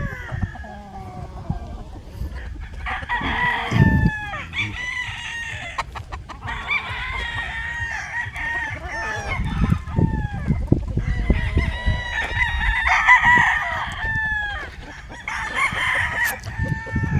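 Several young roosters (stags) of the Devil's Comb line crowing repeatedly, overlapping calls from nearby birds with clucking and background farmyard noise.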